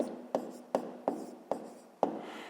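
A pen or pencil strikes paper in five distinct taps at a steady pace, each followed by a short scratch, while a math answer about hryvnias and kopecks is written by hand. The sound is close and quiet, with no voice.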